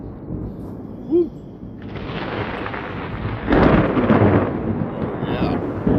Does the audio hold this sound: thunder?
yes